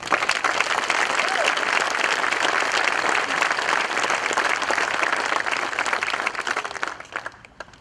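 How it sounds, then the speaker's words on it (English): A large crowd at a high school graduation ceremony applauds steadily and loudly for several seconds, the clapping fading out near the end. "they deserve a round of applause"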